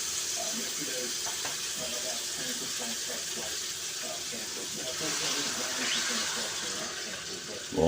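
Liquid pours into a hot seafood paella pan, a continuous splashing sizzle that swells toward the end, with people talking over it.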